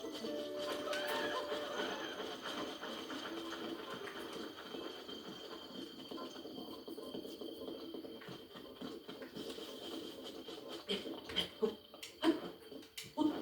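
A horse in Zelda: Breath of the Wild whinnies and snorts amid a busy, crackly background, with scattered clopping and rustling sounds, fairly quiet overall.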